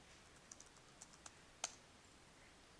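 Typing on a computer keyboard during a lecture, with a few faint, scattered key clicks and one sharper tap, near and quiet with no talking.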